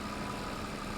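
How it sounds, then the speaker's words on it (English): A tractor engine in a farming game drones steadily while straining uphill, a brief constant rumble with no talking. "it's uphill, so it takes a lot more time because the engine struggles"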